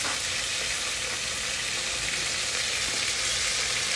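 Onions fry in a pan for a shredded beef dish, giving a dense, even hiss of sizzling that stays steady and close without pause.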